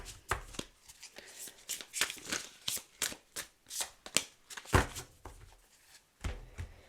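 Oracle cards being shuffled and cut by hand, a close series of quick riffling bursts and soft slaps in an uneven rhythm, with brief pauses between.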